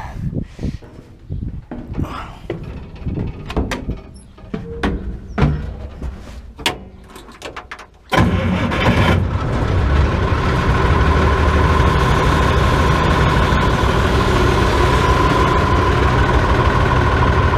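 A heavy engine turns over and catches, then settles into a loud, steady idle after several seconds of clanks and shop handling noises beforehand.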